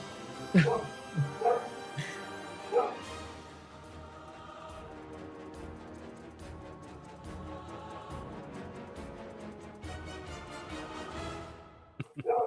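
A few short, high dog yips and whimpers come in the first seconds, followed by soft sustained musical tones.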